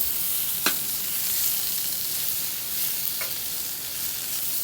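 Elk loin steak and chicken, seasoned with salt, pepper and garlic powder, fry on an RV griddle, giving a steady close sizzle with a couple of brief sharper pops, no voices.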